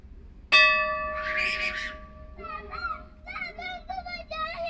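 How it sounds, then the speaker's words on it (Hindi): A temple bell at Sihari Mandir is struck once nearby with a sharp clang and rings on with a sustained metallic hum, while children chatter over the fading tone. "जल्दी घंटी बजा के आओ।"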